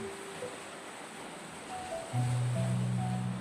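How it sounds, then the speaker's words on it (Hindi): Sea waves rise and lap around the shallows at the shore, a steady close wash of water that grows fuller and louder toward the end, with no voices. "भले पानी में लहरें उठ रही हैं"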